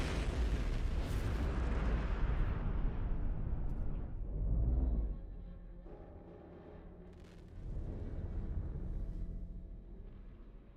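Explosions in the space exploration game No Man's Sky, with a massive rumbling blast that tails off, then a second deep boom and swelling roar before fading.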